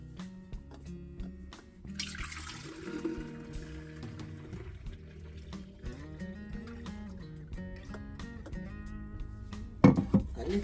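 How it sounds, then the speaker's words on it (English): Rosemary shot drink poured into a bottle, a soft running trickle of liquid with small drips and clinks over about ten seconds, quiet and close, ending in a brief louder splash. "I'm gonna pour out my drink"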